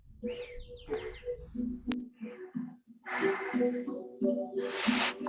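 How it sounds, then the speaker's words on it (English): Birds chirping and singing outdoors in summer, bright repeated calls that swell in busy bursts, fairly faint, with no voices. "Somebody has birds."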